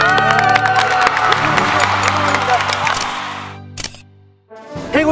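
A crowd at a company sports day awards ceremony bursts into loud clapping and cheering, which fades out after a few seconds before voices pick up again.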